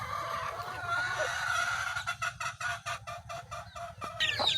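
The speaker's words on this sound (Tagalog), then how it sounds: "Yan po yung ating isang inahin." A hen clucking in a yard, soft repeated clucks in a quick rhythmic run over steady background noise, fairly close, with a brief squawk near the end.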